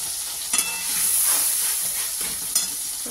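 Ground spice paste hitting a pan of cooked-down tomato, a steady close sizzle and hiss of frying with a couple of brief stirring knocks.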